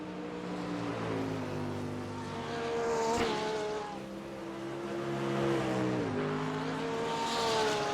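Race cars roar around the Charlotte Roval in iRacing, engines droning and rising in pitch as they accelerate, passing close and fairly loud with no talk over them.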